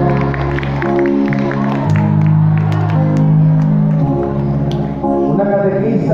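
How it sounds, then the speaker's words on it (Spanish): A congregation at a Holy Thursday church service applauds with scattered hand claps and cheers. The applause is spread through a crowd and plays under sustained music and voices. "Aplausos a fuerte a Dios Jesús."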